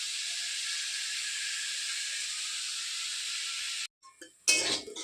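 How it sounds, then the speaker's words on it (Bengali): Potatoes frying in a pan during vegetarian home cooking give a steady, close hiss of sizzling oil that stops abruptly, followed by a brief clatter and a short burst of louder spitting. "এবার আলুটা ভাজা হচ্ছে, আমি ভাজছি"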